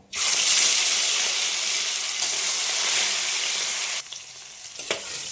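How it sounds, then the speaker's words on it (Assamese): Magur catfish frying in hot oil makes a loud, dense sizzle that starts abruptly, holds steady, then drops to a quieter crackle near the end, with no voices. "মাগুৰ মাছো ভজা হৈ গ'ল"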